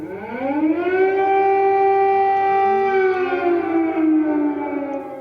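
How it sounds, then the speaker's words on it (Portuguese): An air raid siren in Ukraine wails steadily before dawn, a sustained rising and falling tone that sounds distant and echoing, with no voices. "O barulho das sirenes soaram ainda na madrugada."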